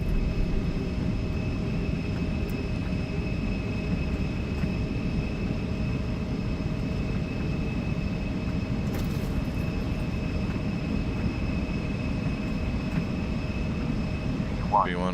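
Embraer E175 twin jet engines at takeoff thrust in a flight simulator, a steady loud broadband roar with a constant whine, continuous and unchanging throughout.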